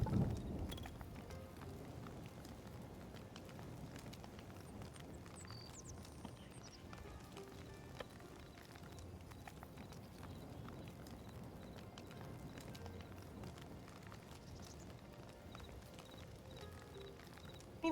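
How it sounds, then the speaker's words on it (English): Hooves of a horse in Hytale clip-clop in a fast, steady rhythm, faint and continuous for the whole stretch. "A horse"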